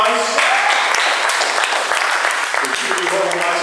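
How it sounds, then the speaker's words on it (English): Applause from the audience at a Chicago 12th Ward public discussion, a short burst of clapping mixed with voices talking over it. "give yourself a round of applause"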